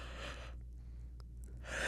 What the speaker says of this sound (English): Not me starting with a yawn.